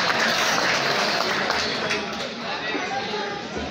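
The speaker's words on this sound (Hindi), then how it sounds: "तालियां जी माशाल्लाह।" Audience applause fills a poetry gathering (mushaira), a dense, steady wash of clapping mixed with crowd chatter that carries through the whole stretch and eases slightly toward the end.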